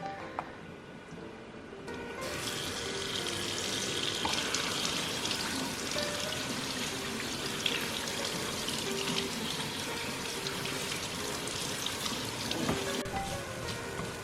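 Beans rinsed under running tap water, a steady hissing stream that splashes continuously against the beans and container, close and fairly loud throughout.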